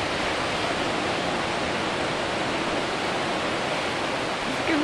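Ocean waves on a beach make a constant, loud, hissing roar of surf with no break and no talk over it.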